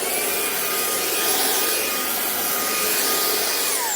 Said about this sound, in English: and I turn it on and it's a handheld vacuum